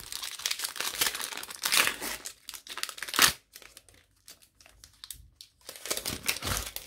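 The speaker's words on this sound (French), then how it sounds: "Alors le papier, franchement, je sais pas, bon, c'est peut-être pour qu'on ouvre plus facilement" Crinkly paper wrapper of a trading-card booster pack is torn open and crumpled, loud close rustling bursts separated by short quiet gaps, with one sharp tearing rip midway.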